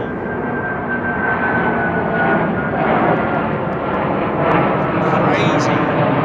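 An Airbus A380 jet climbs out after departing London Heathrow, its engines giving a loud, sustained roar and whine that swells slightly, with people talking over it.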